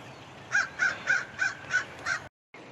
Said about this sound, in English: Mr. Crow's out this morning too.